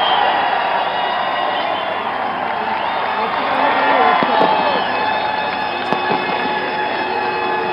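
A huge crowd cheers at Uddhav Thackeray's swearing-in at Shivaji Park in Maharashtra, a steady, dense roar of many voices with scattered shouts, continuous and loud throughout.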